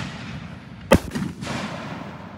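One sharp, loud firework report at an outdoor spring open shoot of consumer pyrotechnics, followed by a brief crackling tail and a second softer burst, against steady outdoor background noise.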